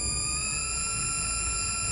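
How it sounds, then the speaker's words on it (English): A screechy interphasic pulse from Star Trek: The Next Generation, a steady shrill electronic whine of several stacked high pitched tones held continuously over a low rumbling background. "That screechy noise represents an interphasic pulse that will get rid of the space parasites"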